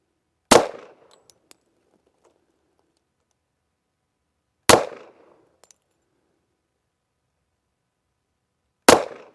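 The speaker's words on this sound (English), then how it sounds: "Dan Wesson Pointman Major, slow fire, 230 grain ball, 7 yards away" Three slow, evenly spaced shots from a Dan Wesson Pointman Major 1911 pistol firing 230 grain ball at an outdoor range, each a sharp loud crack with a short decaying tail and a few faint clinks between.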